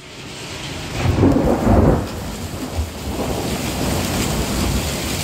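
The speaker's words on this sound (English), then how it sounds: "Lightning bolts hitting." Thunder rumbles during a winter thunderstorm in northeast Illinois, with a deep, rolling crash that swells and fades, followed by continued low rumbling over a steady background of rain and wind.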